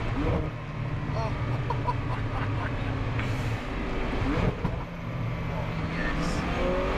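A 1177 hp Zenvo TSR-S hypercar engine roars steadily through downshifts, with a deep rumble, rev blips and crackles, while people talk excitedly over it.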